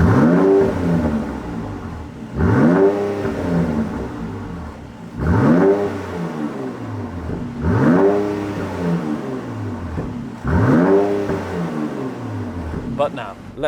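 Mercedes-AMG C43 with the AMG Performance Exhaust revs hard five times in a regular rhythm, each loud, close blip rising and falling as a voice talks between them.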